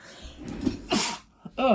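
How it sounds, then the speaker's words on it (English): A single sneeze bursts out up close, with a short sharp breath and a smaller sound just after it. "sorry that you had to listen to me sneeze"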